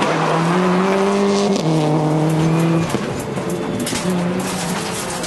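A rally car on a gravel special stage, braking hard and going loose into a spectator S-bend, its engine droning steadily up front with slight tire scrabble, the tone dropping as it slows and shifts.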